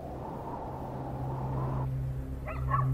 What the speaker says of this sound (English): Is that what's making the dogs bark?